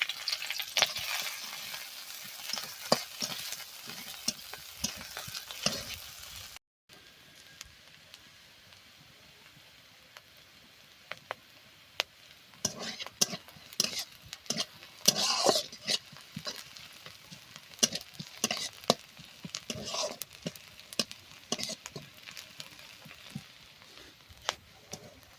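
Chopped chilli and onion frying in hot oil for an egg and potato dish, a steady sizzle with stirring scrapes and clicks, briefly cut off early on and then resuming with loud spiky stirring bursts.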